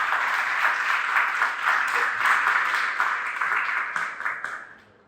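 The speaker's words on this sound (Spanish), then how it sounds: "Pido un aplauso para él," Audience applause at a Mexican conference on a regional water basin council, a dense, steady wash of many hands clapping that carries on evenly before tapering off toward the end.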